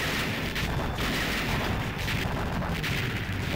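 Dense, continuous gunfire and explosions from the arcade game Shock Troopers, loud and relentless with no pauses across the short stretch.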